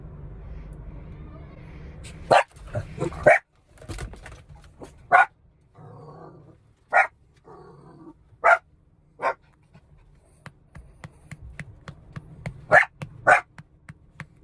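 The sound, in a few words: dogs barking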